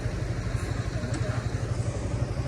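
A motorcycle engine idles steadily during a roadside tea stop on the Dhaka to Dinajpur route, a close, low, pulsing rumble with an even rhythm and no voices.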